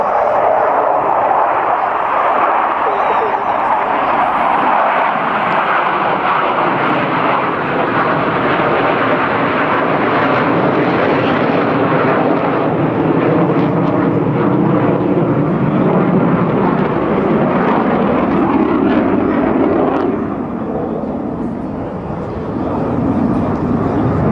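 Belgian Air Force F-16 jets at an airshow roar past in a loud, sustained broadband rush of jet noise that swells and fades slightly near the end, with no talk.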